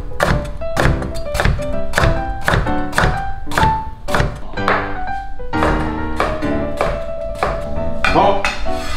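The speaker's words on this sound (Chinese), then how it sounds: "好，然后我们就切片。" A knife cuts half a bitter melon into slices on a wooden cutting board, sharp rhythmic chopping thunks repeating steadily and loud up close, with a few ringing knocks between strokes.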